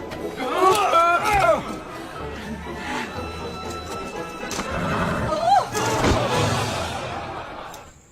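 A horse whinnies loudly near the start, then neighs again more briefly later, over outdoor clatter and background voices in a period drama setting.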